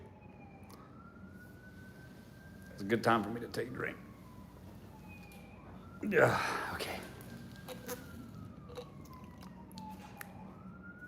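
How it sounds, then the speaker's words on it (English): A wailing siren rises and falls steadily in the distance throughout, while a person talks and drinks nearby over it. "Hang on, you guys hear the sirens?"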